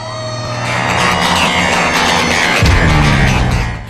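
A fire engine siren wails loud and close in a film scene, its tone rising and falling over a heavy truck rumble, with a deep engine surge near the end before the sound fades out.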